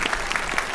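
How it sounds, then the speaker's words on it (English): Audience applause for a symphonic band at a dessert soiree concert, a steady dense wash of clapping from a full hall with no pauses, loud and close. "Give them another round of applause."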